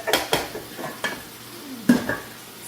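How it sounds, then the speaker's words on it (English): Plant-based meat sauce sautés in a pan, with a faint sizzle beneath a few distinct utensil scrapes and clinks against the pan, close and quiet with no voices. "now it's kind of coming down to a sauteing state"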